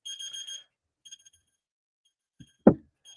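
An auction countdown timer gives a short burst of rapid electronic beeps, a few faint blips follow, and then a single sharp loud knock-like hit lands near the end against silence.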